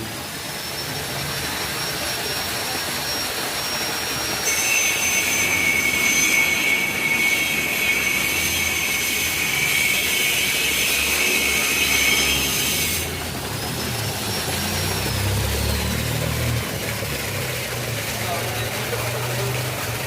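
A loud 5 HP water pump motor supplying a village tank drones steadily throughout, with a high whine that rises for several seconds and then drops away, with faint voices in the background.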